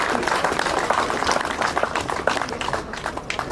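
An audience at an award ceremony claps in a dense, continuous burst of applause, with a voice faintly audible beneath it.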